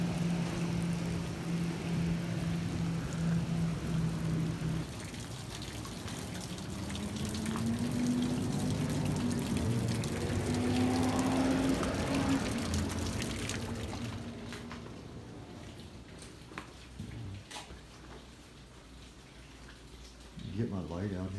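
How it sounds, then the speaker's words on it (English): Steady rain outside an abandoned motel, gas station and restaurant: a continuous watery hiss with a low droning hum underneath, fading somewhat toward the end, with a few close handling sounds at the finish. "It's pretty rainy out"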